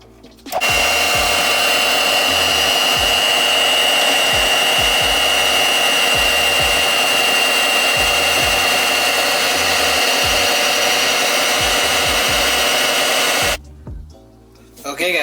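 An electric mixer beats brownie batter of butter, vanilla and dark chocolate, running as a steady, loud motor whine for about thirteen seconds with faint knocks against the bowl before it cuts off.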